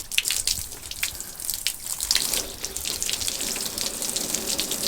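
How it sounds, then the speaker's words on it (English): Water from a hose spatters and runs off the painted body of a Ford 7.3 Powerstroke truck, a steady close hiss with scattered droplet splashes and no talking. "the water kind of runs straight off of it"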